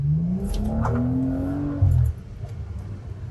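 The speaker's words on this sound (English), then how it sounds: "This car kind of has a little bit of a fart through the exhaust when you shift." A 400 hp BMW 335i F30 engine revving up under acceleration, then a short low burbling pop from the exhaust as the gear changes, heard from inside.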